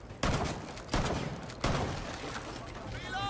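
Video game gunfire emptying a magazine: three loud, sharp shots land roughly evenly spaced, each followed by a decaying echo, with faint game sounds and a voice underneath.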